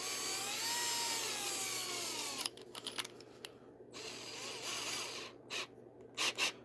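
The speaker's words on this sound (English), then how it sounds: "I really love this drill." An impact drill grinds into earplug mold material, first as a steady whirring buzz and then in choppy bursts with brief pauses, close and fairly loud against a low background hum.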